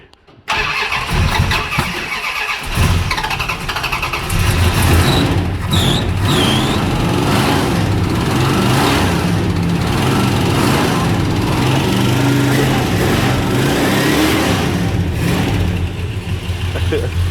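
A car engine cranks and catches, then revs and runs roughly to warm up, loud and close for the whole stretch, with people talking over the engine noise.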